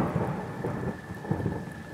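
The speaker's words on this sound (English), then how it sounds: "Sounds like the rain is starting to kick up a little bit." Steady heavy rain during a thunderstorm, heard as a dense broadband wash with low rumbling thunder swelling underneath, continuous and fairly close, with no talking.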